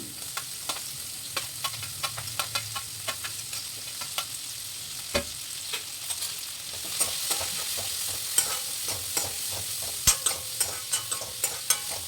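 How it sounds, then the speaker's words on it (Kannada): Crushed garlic, green chili, capsicum and onion fry in a pan, a steady soft sizzle punctuated by regular sharp scrapes and taps of a stirring spoon, close and without any talk. "ಜಜ್ಕೊಂಡಿರುವಂಥ ಬೆಳ್ಳುಳ್ಳಿ ಹಸಿಮೆಣಸು ಬೋಂಡ ಮೆಣಸು ಮತ್ತು ಈರುಳ್ಳಿಯನ್ನು ಹಾಕಿ ಫ್ರೈ ಮಾಡ್ಕೊಳ್ತೀನಿ"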